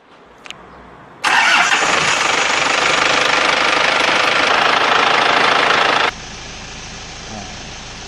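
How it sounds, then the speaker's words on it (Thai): A car engine cranks and catches abruptly, then runs at a loud, steady roar for about five seconds before dropping to a quieter idle as it warms toward operating temperature during an engine wear check. "ติดเครื่องหรือลันเครื่อง ให้ถึงอุณหภูมิทำงานนะครับ"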